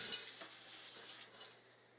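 Scrap gold jewelry pieces pour into a glass beaker, giving a faint, brief clatter and light tinkling of small metal bits against glass, heard alone with no talking.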